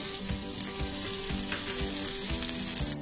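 Butter sizzling in a hot pan at the start of a homemade veg burger patty, a steady dense crackle with soft stirring clicks, close and continuous with no talking.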